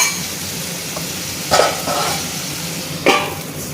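Fried jackfruit seeds and potatoes stirred in a pan for a dried fish curry, with a low steady sizzle and two distinct scraping strokes of a spoon, close by.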